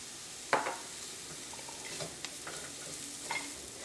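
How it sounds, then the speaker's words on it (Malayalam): Coriander powder frying in oil with turmeric in a pan, a soft continuous sizzle broken by several close scraping stir strokes and light clinks of the spoon, with no voices. "മല്ലിപ്പൊടിയും എണ്ണയിൽ കിടന്ന് നന്നായിട്ട് മുരിഞ്ഞിട്ടുണ്ട്"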